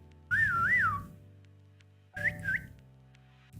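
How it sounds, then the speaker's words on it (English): A person whistles two short melodic phrases, the first wavering up and down for about a second, the second briefer after a pause, close and clear over a quiet background. "And you can even whistle."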